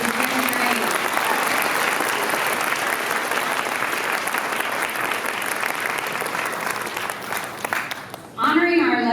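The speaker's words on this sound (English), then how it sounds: "let's give a round of applause to the 10th grade" A large audience at a graduation ceremony applauds the 10th grade graduates with dense, sustained clapping for about eight seconds before it fades and a voice begins speaking.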